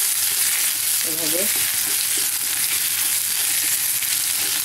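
Garlic and cumin paste frying in a pan, a constant loud hiss and sizzle with faint stirring scrapes underneath, while a voice briefly speaks over it near the middle.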